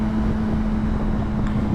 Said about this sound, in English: It's pretty windy today again.